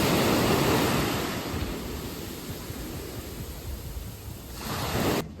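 Surf washing onto a beach in Barcelona, a steady broad roar of breaking waves mixed with wind buffeting the microphone, continuous with a slight swell near the end before cutting off.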